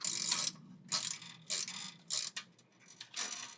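Cable rail tensioners on a deck are cinched tight, giving quiet bursts of ratcheting clicks in about five separate pulls with short pauses between, close up and alone.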